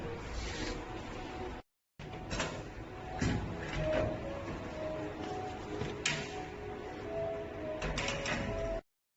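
Cake vending machine printing a receipt and unlocking a locker, a steady mechanical whir with feed clicks and a couple of thuds, close, briefly cut by silent gaps.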